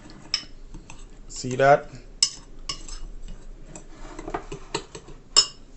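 A spoon scraping and clinking against a dish while mixing seasonings into a whole chicken for a Jamaican-style oven bake, soft irregular taps and scrapes close by, with a brief spoken remark in the middle.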